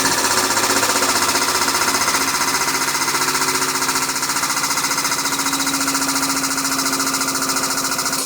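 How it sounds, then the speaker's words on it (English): A press drives a number 10 Crater Maker dimple die into steel sheet, producing a loud, close, steady pulsing mechanical drone that holds at a constant level throughout. "we've got the number 10 Crater Maker dimple die in here"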